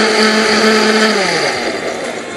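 A kitchen blender whirs loudly and steadily while whipping egg whites for a peach mousse, its motor pitch sagging slightly near the end.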